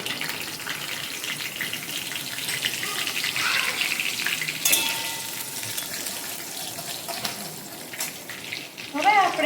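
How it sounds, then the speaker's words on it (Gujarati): Curry leaves and green chillies fry in hot oil in a pan for a fasting-friendly sago soup, a steady close hiss and crackle that flares now and then, with no speech over it. "લીમડાના પાન એડ કર્યા બાદ હવે આપણે લીલા મરચાં એડ કરીશું"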